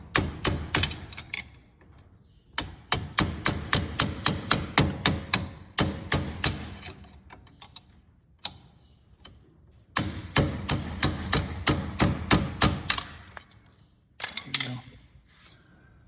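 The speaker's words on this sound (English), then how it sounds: "I'll take my hammer, tap it out of there." Repeated sharp metallic taps from a hammer knocking a brake-line clip out of a bracket on a Kawasaki Mule, quick bursts of rapid strikes separated by brief pauses, close and loud.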